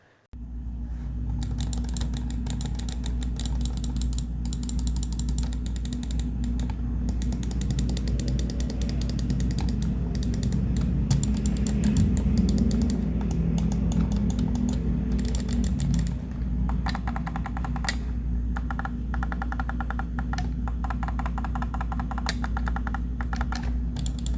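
Rapid, crisp mechanical clicking from the buttons of a Fantech Crypto VX7 gaming mouse runs steadily throughout, close up, with bursts of faster tapping over a low constant hum.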